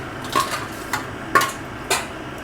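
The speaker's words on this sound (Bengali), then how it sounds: "এবারে আমি ঢাকা দিয়ে দেব।" Three light metallic clinks spaced about half a second apart as a lid is set onto a cooking pot of Bengali banana-flower and prawn curry, fairly close and quiet against a soft background.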